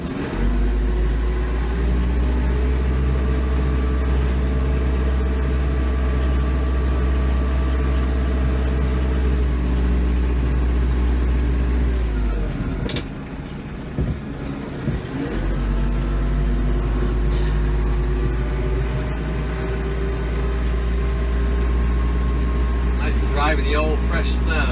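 Massey Ferguson 1754 tractor driving through fresh snow, a loud, steady close engine drone that drops out briefly midway and then returns, with someone talking over it.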